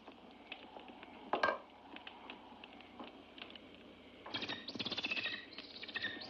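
A bird in a 1963 horror film gives faint, scattered chirps over a quiet room background. A denser run of quick tweets comes near the end.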